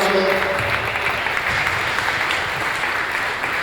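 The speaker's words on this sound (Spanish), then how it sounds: "Fuerte el aplauso" An audience claps steadily throughout after a scientific talk on microorganisms easing abiotic stress in crops, a dense, even burst of applause that stays loud from start to finish.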